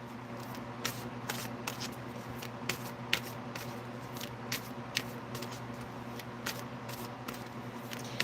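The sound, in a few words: shuffling and drawing tarot cards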